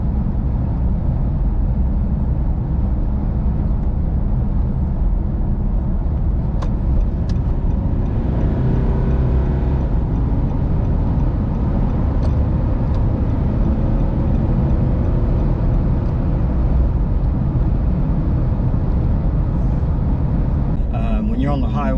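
A 2016 Nissan Navara D23 ST ute accelerating on a highway, with a steady, loud engine drone and road roar heard from inside the cab, with someone talking throughout.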